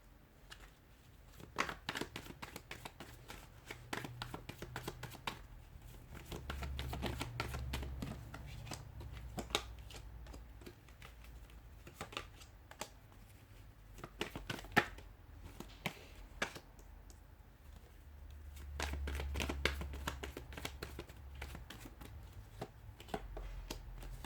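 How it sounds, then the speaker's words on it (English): A deck of tarot cards is shuffled and drawn by hand in a tarot reading, with bursts of riffling and snapping card flicks in irregular clusters, close and fairly quiet. "I'm just going to pull out a bunch of cards."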